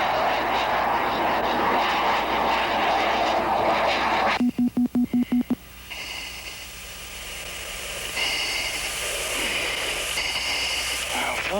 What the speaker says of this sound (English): here again is a solo vertical takeoff and climb with a corkscrew roll